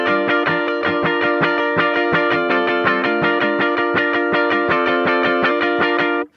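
An electric guitar plays a song intro as a tight, rhythmic muted strumming pattern, loud and close, with steady percussive chops under sustained chords and no talking.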